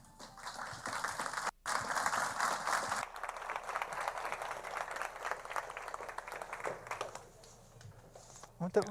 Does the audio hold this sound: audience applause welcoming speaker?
yes